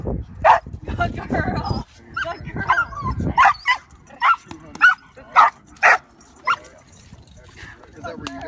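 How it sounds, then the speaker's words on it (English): A dog barks on command in an open field during bitework training, giving a run of about eight sharp, loud, close barks at a steady rhythm after someone talks at the start. "So I'll get her to bark"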